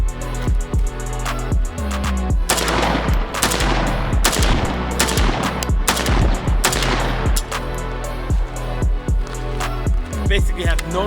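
Loud, rapid bursts and single shots from an AK-47 rifle fitted with a Precision Armament M4-72 muzzle brake, sharp cracks repeating steadily throughout with no talking.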